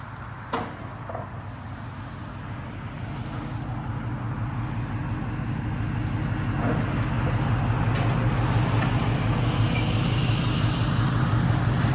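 An Infiniti Q70/M56 with a 5.6L V8 and Flowmaster Outlaws exhaust idles with a steady, deep, low rumble that holds close and even throughout, a faint knock near the start.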